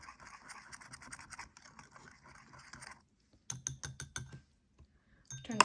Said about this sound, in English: give those a whisk to incorporate